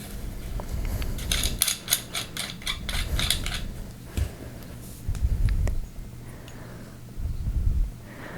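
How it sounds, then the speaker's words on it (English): The metal pommel of a lightsaber replica is unscrewed, giving close, rapid scraping and ratcheting thread clicks in short bursts, followed by a few soft handling thumps. "We can unscrew the pommels also."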